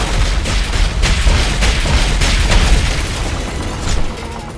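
Air support strikes hit a plaza in Call of Duty: Modern Warfare 3, a dense rolling barrage of heavy booms with sharp cracks and low rumble, loud and continuous for several seconds.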